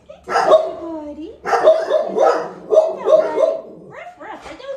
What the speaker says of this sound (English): here goes the dogs